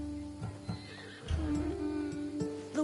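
A horse from the Assassin's Creed Odyssey video game neighs in a fairly loud whinny, with a few hoof clops just before it, heard alone without speech.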